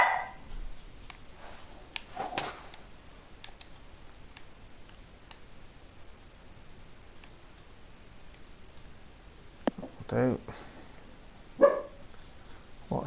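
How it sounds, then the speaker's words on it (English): A dog barks in a few short, sharp bursts on a quiet golf course, spaced far apart over faint background ticking, moderately near and with no speech. "Dog going mad."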